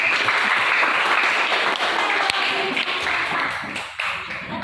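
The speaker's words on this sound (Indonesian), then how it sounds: "Ayo, kita berikan aplaus dulu." Applause from an audience at a comprehensive exam session fills the room, a dense steady clatter of many hands clapping at close range that tapers slightly toward the end, with a sharp tap near the middle.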